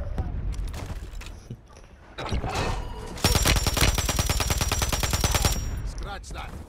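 Heavy automatic gunfire in the shooter game Warzone 3, scattered shots giving way to a long, loud, rapid machine-gun stream that rattles on for several seconds before stopping, close and dominant.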